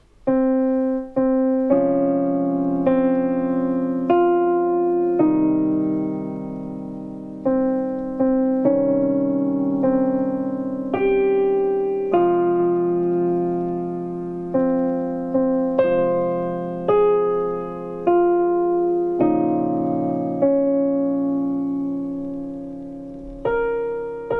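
Piano chords with flattened notes, giving a sad sound, ring out one after another at a relaxed, steady pace, each struck cleanly and left to fade before the next.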